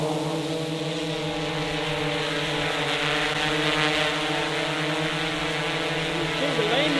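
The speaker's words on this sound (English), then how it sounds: "now that's the props. We check, make sure we're clear, and we go vertical." A drone's propellers spin up and hold a steady, high buzzing whine with layered harmonic tones as it rises vertically, moderately loud and continuous, with a slight waver near the end.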